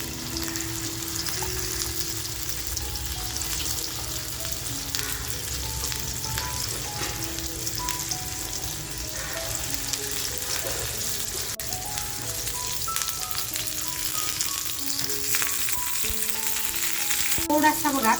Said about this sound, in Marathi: आपण एक एक मच्छीचा पीस आहे तो मस्त असा फ्राय करून घेऊया.